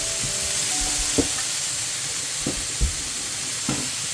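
Potatoes, browned earlier, drop into a hot soup pot for a bean soup with carrots and celery. A steady, loud sizzle hisses throughout, with a few soft clinks and thuds as the pieces land. No one speaks.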